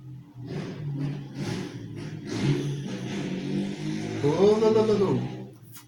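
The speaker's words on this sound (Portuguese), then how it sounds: "A moto." A motorcycle engine passes outdoors, its rising and falling whine swelling near the end, mixed in with people talking.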